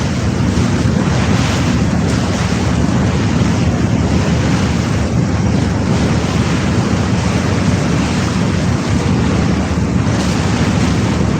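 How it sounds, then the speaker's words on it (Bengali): A cargo ship passes on a river, heard as a steady, loud rush of water and wind buffeting the microphone, with a low engine drone underneath throughout. "মালবাহী জাহাজ মালবাহী জাহাজ"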